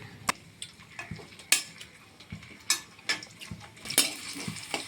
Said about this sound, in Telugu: నూనె వేడైన తర్వాత బంగాళదుంప ముక్కలు వేసుకోవాలి కొంచెం సేపు ఉండి క్యారెట్ ముక్కలు కూడా వేసుకుని బాగా ఫ్రై చేసుకోవాలి